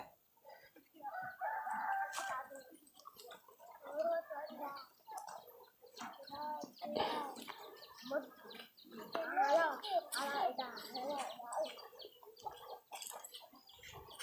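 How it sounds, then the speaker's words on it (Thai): In the village of Ban Huai Ang in Houaphanh, a rooster crows and chickens cluck faintly in the distance, partly under people talking nearby. "โอ้มีไก่เลยพี่น้อง"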